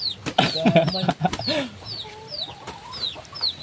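A small chicken, likely a junglefowl, clucks in short, repeated calls close by, mixed with higher chirps and some rustling in the background.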